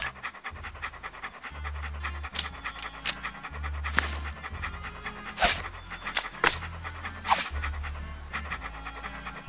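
A dog panting in the Monkey Island 2 video game, quick rhythmic breaths over a looping low musical tone, with a few brief clicks and sharp effects scattered through.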